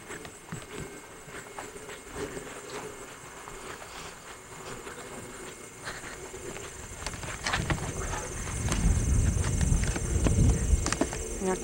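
Horse hooves clip-clop at a steady walking pace, growing louder and closer toward the end over a faint outdoor hum.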